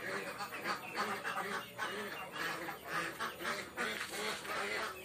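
Ducks quack and chatter continuously in a wet, muddy duck pen, a dense nearby flock with overlapping calls while someone talks over them.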